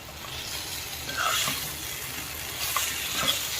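Bitter gourd pieces fry in hot oil as they are stirred for a spicy dish, giving a steady close sizzle and hiss broken by a few soft scraping stirs.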